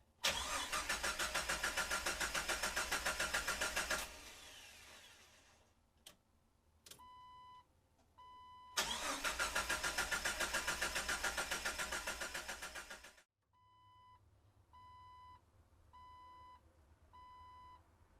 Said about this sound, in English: I hear the pump running